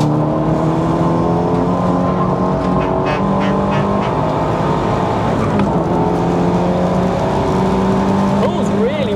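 A 450bhp track-spec Audi A3 8P lapping Castle Combe circuit. Its engine holds a loud, steady drone and climbs smoothly through the revs, with a voice speaking over it.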